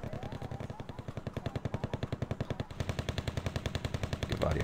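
Rapid, steady machine-gun bursts from a video game tournament match, a loud rhythmic stream of repeated shots filling the whole stretch and swelling slightly louder toward the end, with no talking over it.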